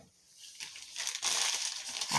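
Plastic piping bag crinkling as it is picked up and handled for drizzling chocolate on dipped strawberries; soft rustling that starts faint and grows into steady close crinkling.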